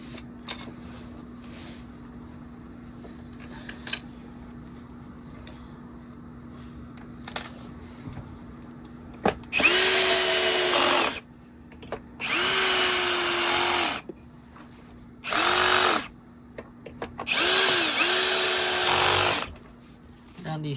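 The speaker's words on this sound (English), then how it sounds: "you really want to have your drill on the lowest setting on Torx 1" A cordless drill on its lowest setting drives Torx screws into the plastic housing of a Shark vacuum in four separate whirring bursts of a few seconds each, spaced by short pauses and a quiet background hum.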